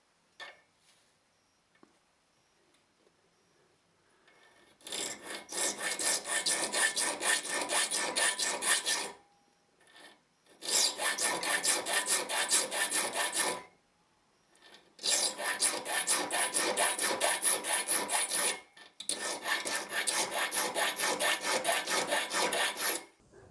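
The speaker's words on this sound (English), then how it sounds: "And all I'll use to do that is a traditional triangular saw sharpening file." A traditional triangular saw sharpening file cuts teeth into a metal strip clamped in a vise for a guitar build, giving four long, steady rasping runs of rapid back-and-forth strokes separated by short pauses.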